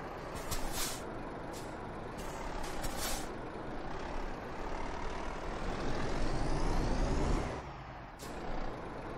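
A truck reversing in Euro Truck Simulator 2 on an Italian route, its heavy engine droning steadily with air-brake hisses and intermittent reversing beeps, fairly loud and alone without talk.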